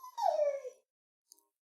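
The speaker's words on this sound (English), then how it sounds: "If you guys hear whimpering in the background" A single short whimper from a dog with a sore throat, a falling whine lasting under a second, then near silence with two faint ticks.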